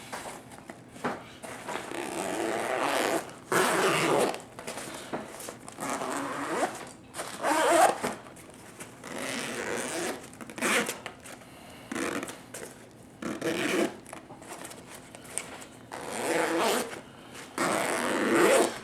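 Stiff zippers run open and shut again and again, each pass a rasping burst of teeth separated by brief pauses. The sound is close and fairly loud, with uneven, gritty drags as the slider catches.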